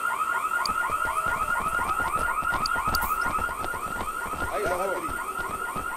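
An alarm in the IGI-2 video game wails in a fast, repeating electronic warble, loud and continuous, while game characters speak briefly over it.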